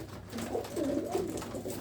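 Pigeons on a rooftop coo in soft, low, warbling rolls, a few birds close together, with no voices.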